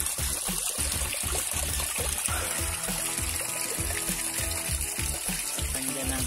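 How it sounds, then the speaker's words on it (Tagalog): Water murmurs and trickles steadily nearby under the moonlight, a continuous gentle flowing babble with soft splashes, heard alone without talk. "masarap pakinggan ang lagas-lak ng tubig."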